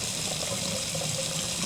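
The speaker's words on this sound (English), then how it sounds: "12 ounces of water into the 4 ounces of the vinegar" Tap water pouring from a jug into vinegar for a homemade carpet cleaner, a steady close stream of liquid splashing into the mixture.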